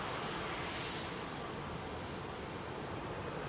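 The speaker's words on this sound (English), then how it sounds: "Oh, look at that JetBlue arriving from New York." JetBlue airliner arriving from New York at London Heathrow, a steady broadband engine roar holding evenly without pause, moderately distant and fairly quiet.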